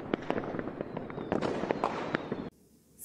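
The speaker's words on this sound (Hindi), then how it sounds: "और पटाखे भी चलाते हैं। आप ही फायरवर्क करते हो ना?" Diwali fireworks and firecrackers crackle in a dense run of sharp pops and bangs that stays loud and close for over two seconds, then cuts off abruptly.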